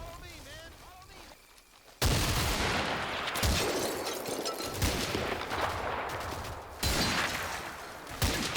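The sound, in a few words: mortar fire at machine gun in Combat Mission video game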